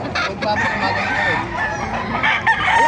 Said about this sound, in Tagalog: Maraming heni ngayon dito sa Baliwag